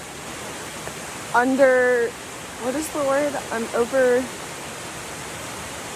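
Steady broadband rush of Desoto Falls, a waterfall on a hiking trail, fills the whole stretch from up close, with a person talking briefly over the constant roar.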